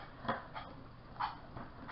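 A pig grinding its teeth: faint, gritty scraping bursts, about four of them at uneven intervals, close by and quiet, with no voices.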